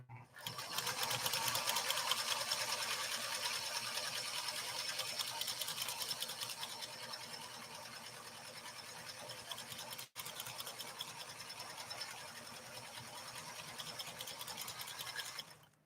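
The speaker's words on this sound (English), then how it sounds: "we are sewing denim with a leather needle, by the way." A PFAFF 360 sewing machine stitching denim with a leather needle, its rapid mechanical whirring and needle chatter running steadily and close, with a brief pause partway through.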